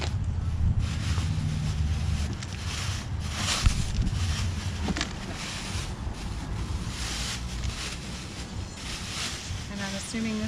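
Strong outdoor wind roars and buffets the microphone in a continuous low rumble beside a 2010 BMW 550i M-Sport during an intake install, with faint voices underneath.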